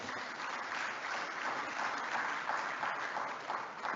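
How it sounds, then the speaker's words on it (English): Steady applause fills a conference hall as the audience claps for itself at a sustainability event's closing, continuous and moderately distant. "Give yourself an applause."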